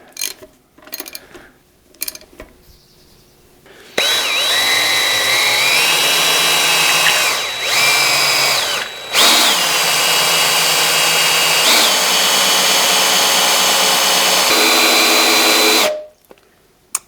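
Rebuilt Isuzu 4BD1T diesel in a Hitachi EX120-2 excavator cranks and fires for the first time, then holds a loud, steady mechanical idle for about twelve seconds with a whining tone on top, dipping briefly mid-run before cutting off.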